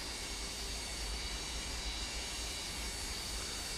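Airliner engines spool up for takeoff in Microsoft Flight Simulator 2024, a steady, loud broadband jet roar with a deep rumble, continuous throughout with no talking over it.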